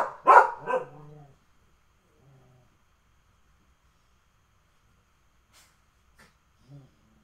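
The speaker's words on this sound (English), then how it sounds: "2 dogs are playing. 1 dog doesn't understand that they're playing." Two dogs playing, with loud, close barks in the first second, then a quiet pause and a few soft yips and whimpers near the end. No one speaks.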